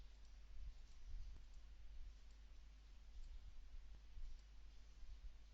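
Computer mouse clicks while working in Microsoft Word 2007, a few faint, sparse clicks spread across the clip over a low steady hum, with no talking.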